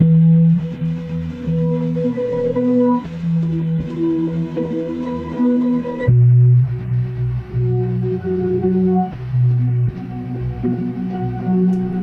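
A slow, grainy synth texture plays alone, shifting between sustained low tonal chords with a hazy, gritty edge.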